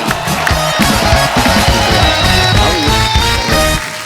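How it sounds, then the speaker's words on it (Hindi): A studio audience on The Kapil Sharma Show loudly applauds and cheers to welcome Shailesh, a dense, continuous roar of clapping and voices blended with upbeat music throughout. "जोरदार तालियां शैलेश भाई के लिए।"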